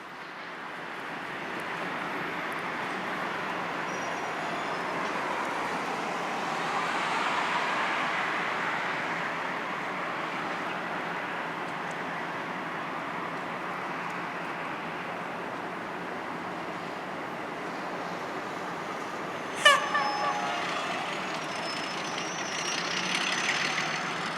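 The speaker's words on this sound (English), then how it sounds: "The 161 is now shoving the N-Class locomotive onto one of the stub tracks" A V/Line locomotive idles and rumbles steadily while shoving an N-Class locomotive onto a stub track at a maintenance depot in Melbourne, with a brief sharp metallic clank near the end.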